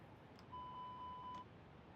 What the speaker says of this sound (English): I just hear an alarm. Hmm. It was a master warning.